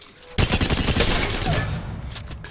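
Energy weapon gunfire in Apex Legends: after a quiet start, a loud, rapid burst of shots fires continuously for about two seconds, close and dense, then tails off.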